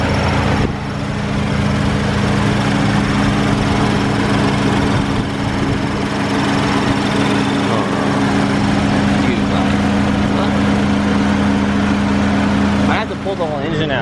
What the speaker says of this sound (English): We got some exhaust rattles